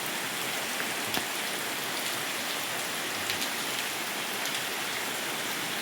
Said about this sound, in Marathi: पाऊस मोठा होता, आता जरा कमी झाला आहे.